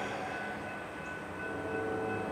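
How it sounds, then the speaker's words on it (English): Freight train rolling southbound on a main line on a calm fall morning, a steady sustained rumble and rail noise holding evenly throughout, fairly quiet and distant with no horn or voices. "The blue train, one orange, and the 108 in trail. Heading southbound at 8 a.m."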